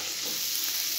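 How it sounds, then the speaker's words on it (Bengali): Whole dried chilies dropped into hot oil, giving a brief, steady bright sizzle and crackle that fills the moment without any talk. "এখানে মরিচ দিব, গোটা মরিচ,"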